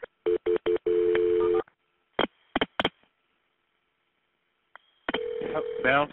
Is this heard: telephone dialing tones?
yes